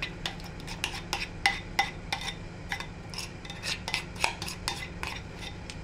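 A spoon or spatula scrapes and spreads almond mix across baked tart pastry for an apple Normandy tart, with a steady run of soft scraping strokes and light utensil clicks at close range, no talk.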